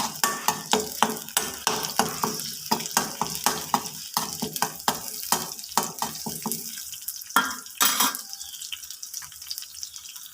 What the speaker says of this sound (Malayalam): അതിലേക്ക് ചതച്ച് വെച്ചിരിക്കുന്ന ഉള്ളിയും കറിവേപ്പിലയും ഇട്ട് കൊടുക്കുക ചെറുതായിട്ട് വടലിട്ട്